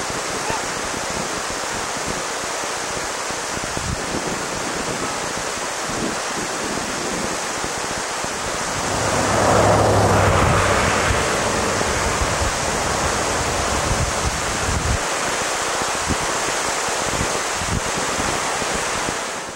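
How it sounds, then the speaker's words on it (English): An Alaskan waterfall pours steadily into a river, a dense broadband roar that stays constant throughout and swells briefly midway, with no voices. "The waterfall falls into a river which is popular for floating."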